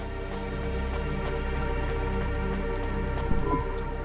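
Steady rain patters on surfaces in the Cloudpunk game, a continuous even hiss over a low ambient hum, with a faint clatter near the end.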